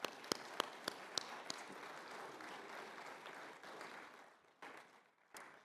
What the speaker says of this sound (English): Let's have a round of applause for these educators.